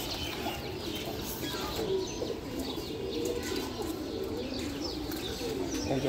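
Domestic pigeons in a Bengali pigeon-keeping loft coo softly and steadily among scattered chirps and occasional wing flaps, a continuous low murmur with no talking.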